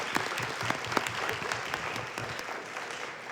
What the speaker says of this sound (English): Let's have a round of applause for national finalist Martingrove.